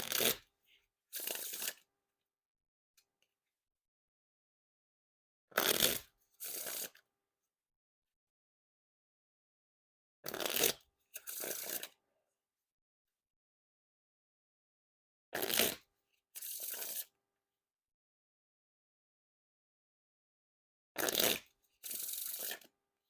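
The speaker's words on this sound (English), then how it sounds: "And now for the Wiffle Shuffle or Bridge Shuffle." Riffle and bridge shuffles of an Orbit Christmas 2022 Edition deck of playing cards: five crisp paired bursts of fluttering cards, close and clear, separated by quiet pauses.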